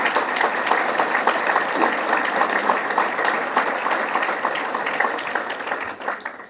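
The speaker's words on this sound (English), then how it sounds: "Let's give him a big round of applause." An audience applauds at a government initiative event hosted by a state governor for Lake Ontario resiliency, steady dense clapping that holds loud throughout and tapers off slightly at the end.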